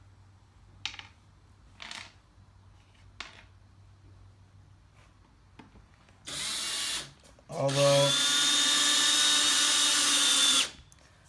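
A power drill drives screws into wood while a rustic barn door is built. A few light knocks and taps come first, then a short drill burst and a longer, louder one close by.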